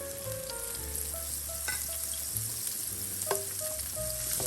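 Butter and garlic sizzle in a pan for pasta primavera, a steady close hiss with a few faint clinks and small tonal blips over it, and no one speaking.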